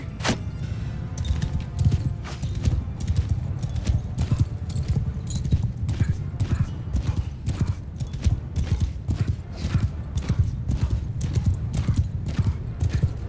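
Horses' hooves pound in a rapid, steady clatter, with many cavalry horses galloping together close by in the video game Mount & Blade II: Bannerlord, loud and continuous with no voices.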